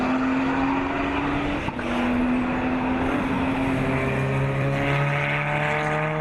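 BMW club race cars run close together on a circuit mid-race, sustained loud engine drones with gear-shift pitch changes and one car's note climbing as it nears, no voices.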